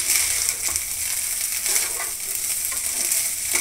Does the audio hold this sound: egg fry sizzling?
yes